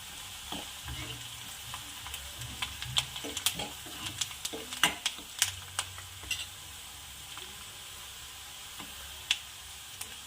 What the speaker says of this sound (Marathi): हे बघा आपला कांदा छान पकत येत आहे आता यामध्ये आपण कढीपत्ता ॲड करू